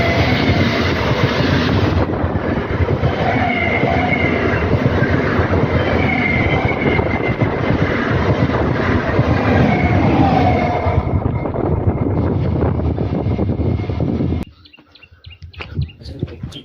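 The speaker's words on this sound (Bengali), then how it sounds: "একটা ট্রেন আসছে" A train rolls through a railway crossing at a small station near Kolkata, a loud, steady roar of wheels and carriages close by for about fourteen seconds. It then cuts off abruptly, leaving quieter outdoor ambience with faint birds.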